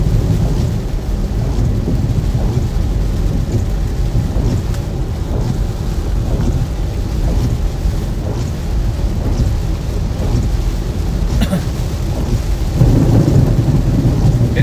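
Heavy rain pours steadily through a Florida severe thunderstorm, with deep rolling thunder rumbling throughout and a louder low boom building near the end.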